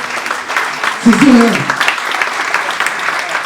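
An audience at a talk on tourism in Marrakech breaks into steady applause, dense clapping throughout with a voice rising briefly over it midway.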